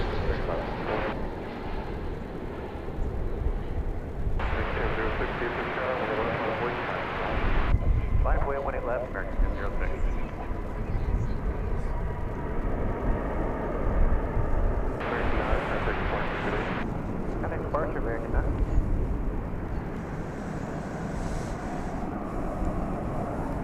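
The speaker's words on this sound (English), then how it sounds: "Here comes a flight from Denver, Colorado, in Airbus A321." An American Airlines Airbus A321 airliner on Flight 2359 from Denver passes at a busy airport. A steady broad jet roar runs throughout, rising and falling in strength, with a voice talking over it.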